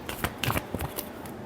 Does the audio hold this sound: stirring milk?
no